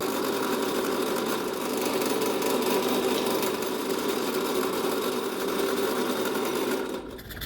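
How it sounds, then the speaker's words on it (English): A drill bores holes through chef knife handle material, a steady loud whirring grind that runs continuously before dropping off at the end, with no talking. "It's time to drill our holes."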